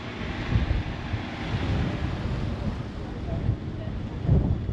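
A strong, cold wind gusts outdoors around the city of San Francisco, a broad steady rush buffeting close to the microphone with brief louder swells and faint voices underneath.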